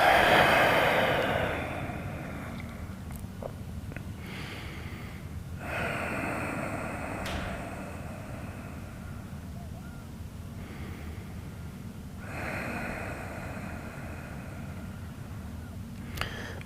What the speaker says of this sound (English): try to breathe as deep as you can